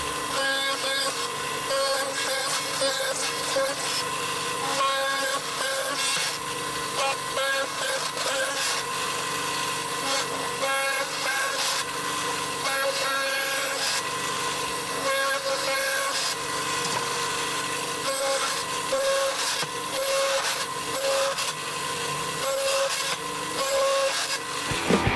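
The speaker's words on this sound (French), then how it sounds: "je viens de finir d'équarrir là le trou que j'avais percé à la perceuse colonne" A chisel works a hole drilled on a pillar drill, squaring it in wood, with continuous scraping and rubbing through the whole stretch, steady and close, without pauses.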